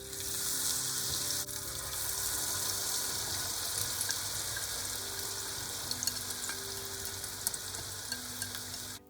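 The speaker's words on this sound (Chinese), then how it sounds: "继续用小火慢慢炸。" Corn kernels deep-frying in oil over low heat, a dense continuous sizzle with scattered small pops and a stirring clatter, steady and close with no talking.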